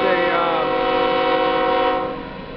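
A loud train horn blares with steady sustained tones alongside rumbling rail noise as a train with one engine and two trailing units passes, fading slightly near the end.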